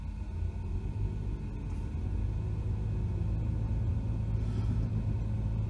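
Interior of a Toyota Sienta driving on city streets, a steady low road rumble and engine drone that stays even and close, with no talk.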